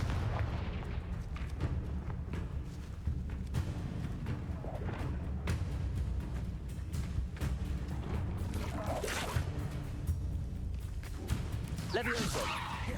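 Blasts from the Confringo fire spell in the Hogwarts Legacy video game, heard as repeated booming explosions and whooshes over a continuous rumbling battle background, with voices shouting over the combat.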